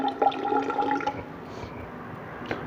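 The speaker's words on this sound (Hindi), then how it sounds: "इसमें हम और वाटर डालेंगे तो ये आपका बनेगा ट्रांसपेरेंट सोल्यूशन।" Water being poured into a flask to make ferrous ammonium sulphate solution for a titration gives a close, gurgling trickle that fades after about a second, leaving faint drips.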